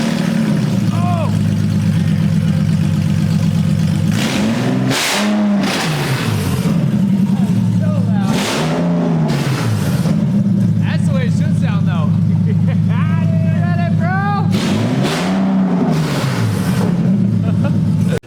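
Infiniti G37 coupe engine with test pipes and no exhaust fitted, firing up and revving hard in repeated loud bursts that rise and fall over a steady idle, with people talking over it.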